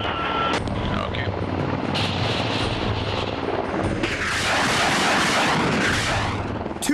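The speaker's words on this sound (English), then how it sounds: "And if the chain gun isn't enough, the Apache uses its rockets." An Apache attack helicopter hovers with a loud, steady rotor and engine roar, then rockets fire from its pods, bursting into a harsh rushing blast in the second half.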